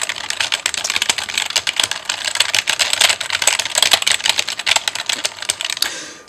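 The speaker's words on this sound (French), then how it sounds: "Et donc je tape du texte à gogo." Rapid, irregular clatter of keys on a computer keyboard while text is typed into a word processor, close and continuous, each keystroke a sharp click, ending abruptly near the close.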